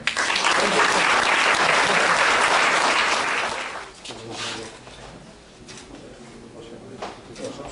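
An audience at the Pozytywny Mielczanin awards ceremony in Mielec applauds the award winners, with loud, dense clapping for about four seconds before it fades into scattered, quieter claps and room noise.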